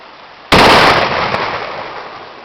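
A single loud Winchester Magnum rifle shot fired outdoors at a log, a sharp blast with a long rolling decay.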